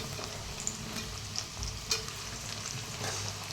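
Onions frying in oil with ginger and garlic crackle and sizzle close by, with spoon stirring and scraping clicks over a steady frying hiss and no speech.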